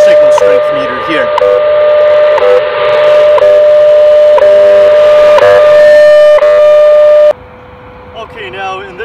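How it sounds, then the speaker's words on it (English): Radio station received through a telluric ground rod antenna system, coming through as a loud steady carrier tone with a fainter broadcast signal and static underneath, which drops abruptly to a weaker, warbling signal near the end. "if we connect the ground rod system, then the station comes in loud and clear"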